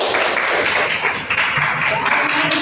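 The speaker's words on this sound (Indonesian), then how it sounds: "tepuk tangan dulu buat Jidan" Clapping from a group in a classroom or workshop session, a steady wash of hands with voices mixed in underneath.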